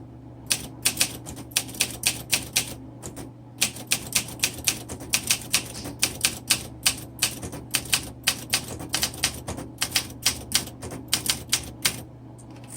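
Rapid mechanical keystrokes clatter from a 1961 Olympia SM7 manual typewriter, sharp strikes in quick uneven bursts with brief pauses, close and clear over a steady low hum, no talking.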